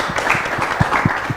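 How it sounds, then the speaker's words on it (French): A studio audience on a TV talk show applauds in a dense, steady patter of clapping with a few distinct louder claps, moderately close and without speech. "On l'applaudit quand même, non, pour sa présence."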